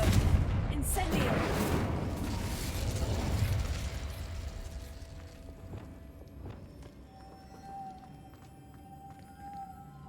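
Magic spell effects from Hogwarts Legacy, Incendio and Confringo casts, burst out as a dense run of blasts and crackling in the first few seconds, then fade into quieter game ambience with a thin sustained tone.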